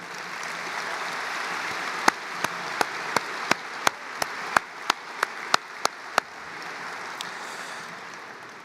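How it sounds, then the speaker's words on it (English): A crowd applauds at a high school graduation ceremony, a soft distant clapping bed, with a run of about a dozen sharp, evenly spaced claps standing out up close before the sound fades back to a low murmur. "A round of applause for those on the stage."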